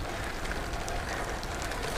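Steady broadband rain hiss with scattered drop patter while cycling a commute bike fitted with fenders, a continuous wet wash filling the clip with no voices.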